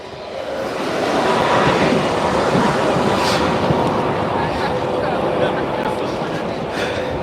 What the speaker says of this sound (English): Okay, this tram is going to Mölndal.